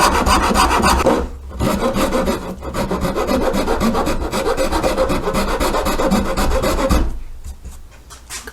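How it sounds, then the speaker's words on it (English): Rasp and second-cut file shape a wooden short-scale bass guitar neck, producing loud, close, rhythmic rasping strokes that pause briefly twice before continuing, with no voices. "I'm going to get in there with a rasp and a second cut file and start to shape that down."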